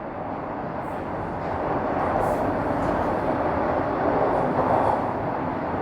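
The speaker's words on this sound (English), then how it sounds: "I'm on the southbound University side of Line 1 of the city's subway network." A Toronto subway Line 1 train on the southbound University side rolls toward Queen's Park Station, making a steady, loud rumble and rush that swells slightly and holds throughout, with no voices.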